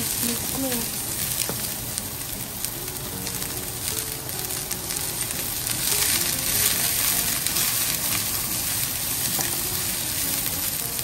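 Laing ingredients are stirred in a sizzling pan, a continuous frying crackle with scraping and stirring noises, while voices and music run over it.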